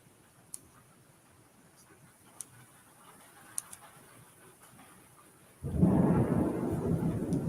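A thunderstorm with heavy rain, a few faint sharp ticks, then a sudden loud, dense burst of thunder and downpour that swells abruptly and roars on steadily to the end.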